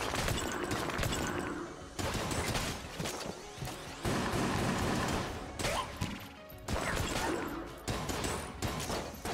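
The Minecutter, an instant hit-scan cursed weapon in Enter the Gungeon, fires in dense, crackling bursts that cut off abruptly, several loud volleys over busy game noise.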